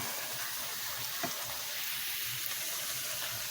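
A tortilla frying in a pan to make a taco shell gives a steady, close hiss of sizzling oil with faint crackles and a brief scrape partway through, no voices.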